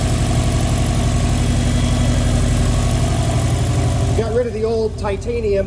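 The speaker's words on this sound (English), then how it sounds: "we got the ETS 3-inch exhaust. Much better tone, much quieter" A NASTI build car fitted with an ETS 3-inch exhaust idles close by with a steady, throbbing low rumble that lightens in the last second or so.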